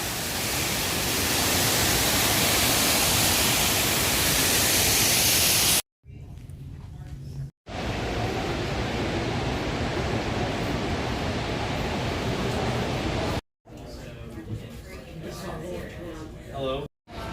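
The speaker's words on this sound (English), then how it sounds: "Where else can you find an indoor waterfall?" An indoor waterfall at a convention centre, a loud, steady rush of falling water that fills the space, broken by a few abrupt cuts.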